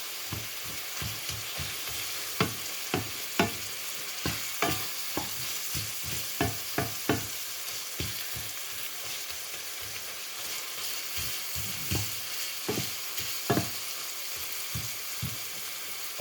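Tomatoes being crushed and stirred in a hot pan while fermented fish sautés, with steady frying sizzle broken by a quick series of sharp scraping and pressing taps, close and alone without talk.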